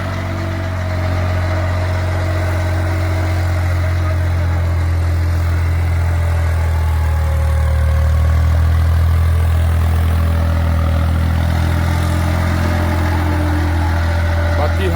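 Close, continuous low drone of a Holland 3630 Super Plus tractor engine working a field, holding steady with a slight swell midway, while someone talks over it.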